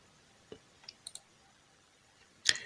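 A few faint, crisp computer mouse clicks tick out singly in a quiet room, followed by a brighter, louder click near the end.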